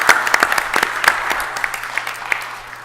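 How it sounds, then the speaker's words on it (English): Crowd applause at a city council meeting, a burst of scattered hand claps that gradually thins out and fades. "Give them a round of applause."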